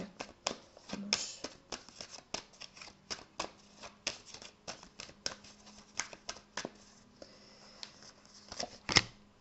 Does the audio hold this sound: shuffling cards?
yes